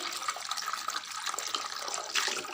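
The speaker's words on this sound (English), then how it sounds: "Also the tin, you can just rinse it off nicely." Water runs steadily from a tap over a paint tin as it is rinsed clean, a continuous close splashing hiss with no talking.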